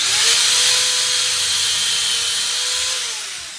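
A power drill runs in a kitchen with a steady, loud whirring drone held for a few seconds before easing off slightly, close up with no voices.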